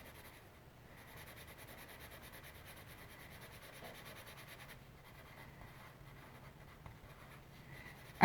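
A Staedtler Noris pencil colouring on paper, a soft continuous scratchy rubbing with short strokes and brief pauses, quiet and close, ending in a sharp knock.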